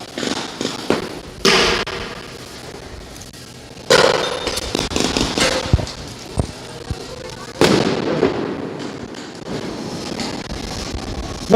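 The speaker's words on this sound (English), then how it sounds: "Now they pop the smoke, they shoot right through it." Smoke and tear gas munitions fired at protesters during a night of street protest in Portland, heard as several sharp loud pops and thuds spaced a few seconds apart, with crowd noise and voices in between.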